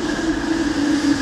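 Steady hum and low drone of an LRT train running in Kuala Lumpur, heard from inside, continuous and moderately loud with no speech.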